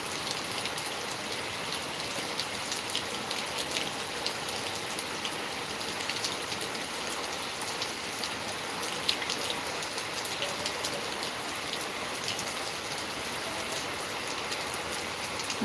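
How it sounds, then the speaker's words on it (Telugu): Steady rain from Cyclone Montha falls in an even, dense hiss of drops on surfaces, continuous and moderately loud for the whole stretch with no voices. "ఈ వర్షం చూడండి ఎంత స్మూత్గా ఉంటుందో"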